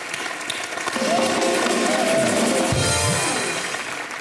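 An audience applauds for Mallika at a Bollywood entertainment event, a steady wash of clapping that swells after the first second and holds loud to the end, with some voices mixed in.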